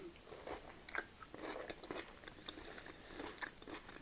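Soft baked stuffed peppers bitten and chewed up close, with quiet repeated crunchy bites and mouth sounds, alone without talk.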